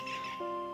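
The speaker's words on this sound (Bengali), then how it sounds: "জঙ্গলের বিভিন্ন নাম না জানা পাখিদের ডাক এনজয় করতে পারবেন" A brief, faint squawking bird call from the forest around Aranye Resort in Beliatore, Bankura, sounding thin and distant.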